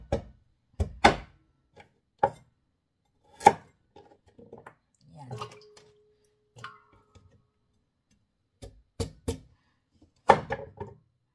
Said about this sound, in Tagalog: Itan lang natin para madali maluto, lumambot.